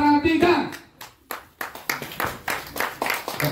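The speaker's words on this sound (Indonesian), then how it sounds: "Tepuk tangan kepada juara 3" An audience claps for the third-place winner at a Kaligesing goat contest in Jepara, with an announcer's voice at the start and then a run of uneven, moderately close hand claps.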